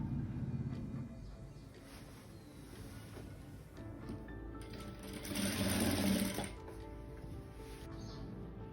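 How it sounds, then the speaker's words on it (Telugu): A sewing machine runs steadily for several seconds, stitching large frills onto lining cloth for a lehenga, with a continuous close mechanical whir that rises briefly in the middle, no talking over it. "ఇప్పుడు మీరు చూడండి, నేను స్టిచ్ చేస్తాను."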